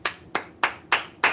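One person claps their hands, five sharp, evenly spaced claps heard close and alone.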